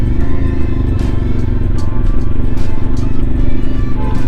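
A CFMOTO 450 MT motorcycle pulls away from a stop and accelerates with a slight jerkiness, its loud, steady engine drone filling the sound alongside wind rush and occasional clicks.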